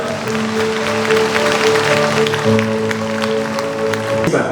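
A crowd applauds steadily throughout at a social workers' conference in Daegu, a dense patter of clapping layered over sustained background music, ending abruptly near the close.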